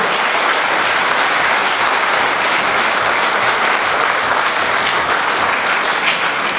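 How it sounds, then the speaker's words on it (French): An audience at an amateur musical comedy show in Escaudain applauds the sound and lighting technicians, a steady, dense wash of clapping from a sizable crowd that holds evenly throughout. "Donc je pense qu'on peut vraiment les applaudir"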